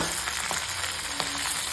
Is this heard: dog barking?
no